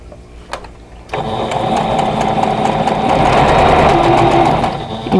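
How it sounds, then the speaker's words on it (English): After a brief soft clunk, a sewing machine starts up loud and close, running a fast continuous stitch as quilt block units are joined into rows. "I'm going to start sewing everything together into rows."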